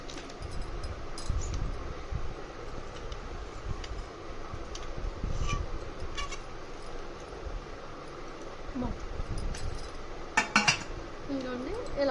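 Steel steamer pot parts are handled in an IKEA store, giving scattered light metallic clinks and clatters over a low, busy room hum, with a louder clank near the end.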